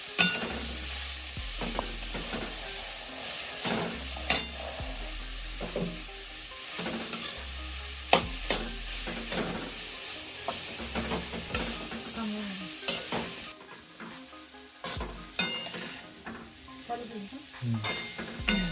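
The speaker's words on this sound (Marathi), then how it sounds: "आता परत परतून घ्यायचं." Steamed raw jackfruit curry being stir-fried in a pan: a continuous sizzle under repeated scraping and clinking strokes of the spatula, steady and close, easing slightly near the end.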